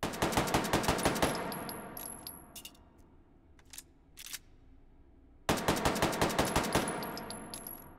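A C-93 pistol fires in the VR shooter Hot Dogs, Horseshoes & Hand Grenades: a fast loud string of sharp shots, a pause with metallic clicks and handling, then another rapid close burst of shots.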